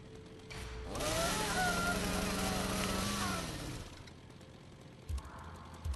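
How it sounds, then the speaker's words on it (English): Leatherface's chainsaw in Mortal Kombat XL revs hard for about three seconds, a loud buzzing engine whine that rises and then drops away, followed by quieter game effects. "Chainsaw? That's subtle."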